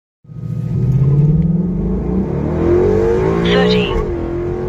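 A 2013 Mustang GT running E85 with a cold air intake and tune launches hard on a quarter-mile pass, its engine rumble climbing steadily in pitch through the gears, loud and close, with a brief shift dip near the end.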